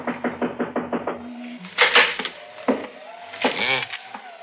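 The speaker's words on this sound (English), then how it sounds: "I guess we knock." A series of quick, sharp knocks on a house door in an old radio drama, followed by voices speaking.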